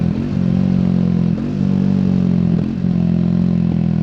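A 2024 Triumph Speed 400 motorcycle engine pulls steadily on the road, a loud, close, continuous drone with two brief dips, like gear changes, before it picks back up.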